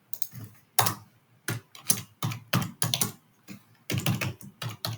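Someone types on a computer keyboard close by, producing bursts of quick, crisp key clicks broken by short pauses, with no voices.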